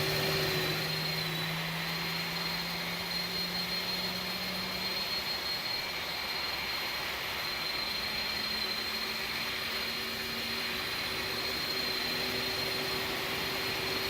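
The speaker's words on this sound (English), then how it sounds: "let's start engine number 1." Engines of an iniBuilds A300-600 airliner spool up in the X-Plane 12 flight simulator, a steady broadband whine and roar with a rising tonal hum, continuous and fairly loud throughout.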